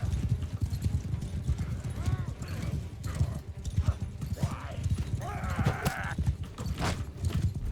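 Horse hooves clip-clop in the medieval battle game Mount & Blade Bannerlord, a steady rapid galloping rhythm running throughout amid battle noise, with someone talking over it.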